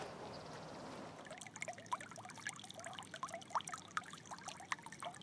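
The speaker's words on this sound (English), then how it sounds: "it bubbles out of the ground and sheets across the path" Spring water bubbles up from the ground and sheets across a meadow path, giving a close, steady trickle with many small splashy drips and gurgles, alone with no voices.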